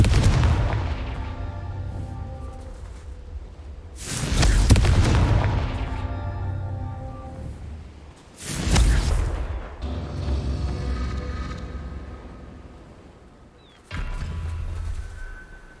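Confringo fire spells explode in the Hogwarts Legacy video game, three loud booming blasts a few seconds apart, each one fading into rumbling echoes.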